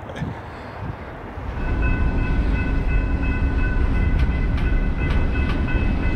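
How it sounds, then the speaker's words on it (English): A train rumbles past on the railroad near a California ghost town, a loud, continuous roar with faint clicks and a steady tonal whine building after a moment. "a lot of trains going through these areas"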